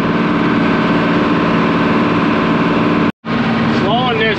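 A tractor engine pulls a disc mower through a wet hay field after heavy rain, a steady loud drone running throughout with a brief dropout near the end, then resuming with a faint whine over it.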